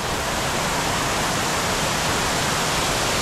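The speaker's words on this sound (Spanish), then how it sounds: "Aquí estamos llegando ya a las cataratas de la Jara." Jara waterfall on the Cebollón river, running with less water than usual this year, heard up close as a dense, unbroken roar of falling and splashing water with no voices.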